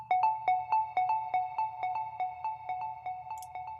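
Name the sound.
synthesizer square wave sound in progressive music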